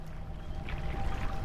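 In the Dredge video game, water laps and sloshes softly against a stone platform in one brief, continuous wash, close and fairly quiet.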